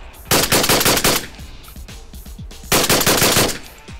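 A 930 competition shotgun fires rapid bursts of shots in very quick succession, loud and close, two clusters of fast cracks with scattered lighter reports between, no talking.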